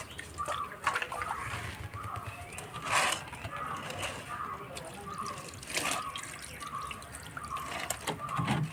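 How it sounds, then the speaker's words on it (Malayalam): A whole piece of beef is washed under a running tap, the water splashing and gurgling unevenly at close range as the meat is turned. "ആദ്യമായിട്ട് ബീഫ് ഇതുപോലെ പീസാക്കാതെ നന്നായിട്ടൊന്ന് കഴുകിയെടുക്കുക."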